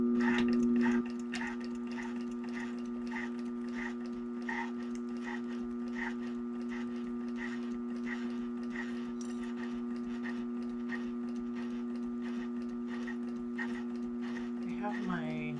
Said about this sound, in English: okay, then we're going to sew down each side.